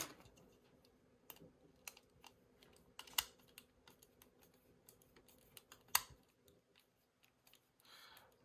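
A screwdriver tightens a screw on a Crush Gear Turbo Garuda Phoenix White Ver. toy, making faint, irregular little clicks and ticks up close in a quiet room, with no talking.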